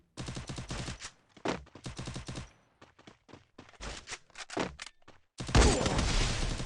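Desert Eagle pistol shots in Free Fire fired in rapid clusters, sharp repeated cracks in quick runs with short pauses between, ending in a louder, denser burst.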